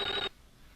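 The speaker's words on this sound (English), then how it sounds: "You still can't answer the phone," Telephone ringing in the Clock Tower video game: a loud electronic ring burst that cuts off abruptly, followed by quiet room tone.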